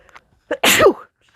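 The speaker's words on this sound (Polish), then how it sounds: "oj, przepraszam, zaraz kichnę" A single sharp sneeze with a short intake of breath just before it, loud and close, alone in a quiet room.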